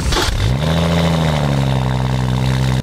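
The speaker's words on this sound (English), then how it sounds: "this is what it sounds like when you first start it up" A BMW M135i being rebuilt after crash damage cranks and fires up, its engine flaring in a sharp throttle blip before settling into a steady, loud, close idle that cuts off abruptly.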